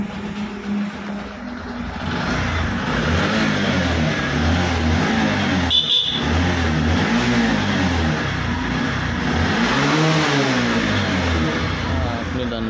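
A freshly serviced Bajaj Platina motorcycle engine runs after an oil change, its mid-pitched putter rising and falling with repeated revs, close and loud after a short quiet start.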